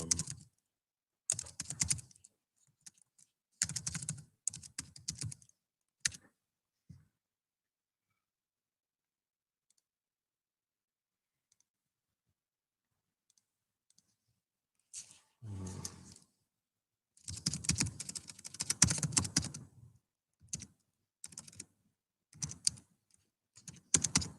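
Someone types a password on a computer keyboard, tapping keys in quick clustered bursts, then pausing for several seconds before a longer flurry of keystrokes. The typing is close and crisp, with no talk.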